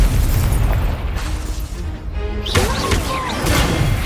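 Incendio fire spell cast in Hogwarts Legacy bursts with a loud whooshing blast and crackling flare, heavy and close over dense game ambience.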